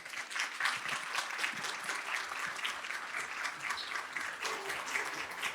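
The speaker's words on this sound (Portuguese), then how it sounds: "Uma salva de palmas, parabéns." Sustained audience applause from a crowd at an innovation award finalists' presentation, dense and steady throughout with no voices over it.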